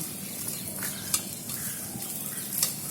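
A ladle is dipped into hot oil before frying palm-fruit jalebi, giving a faint, steady sizzle with a few light metal clinks. The sound is close and quiet, with no talking.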